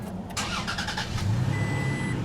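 A 2017 Toyota Tacoma's 3.5-liter V6 cranks and starts, settling into a steady idle with a low rumble, heard up close with a faint high whine.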